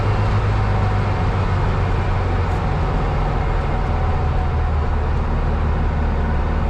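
The air-cooled engine of a '64 VW Beetle runs at a sustained, steady RPM in second gear, producing a loud, even rumbling drone close by that holds unbroken throughout, with no voices.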